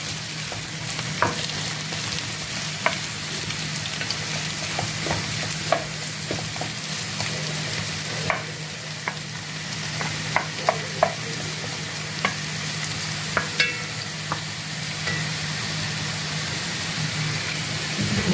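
Mushrooms sizzle and fry steadily in a pan with lemon juice added, with occasional sharp pops and clicks of stirring over a constant low hum.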